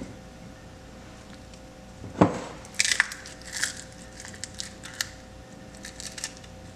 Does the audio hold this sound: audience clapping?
no